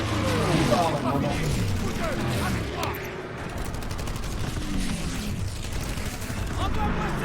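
Grenade blasts and rapid gunfire in Call of Duty WWII at the Remagen bridge on the Rhine, a dense roar of explosions and automatic fire that fades midway and then swells again, with talk over it.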